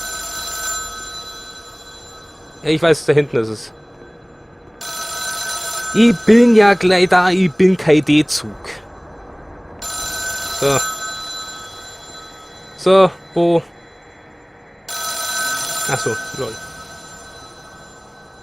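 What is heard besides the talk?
telephone bell ringing in video game The Town of Light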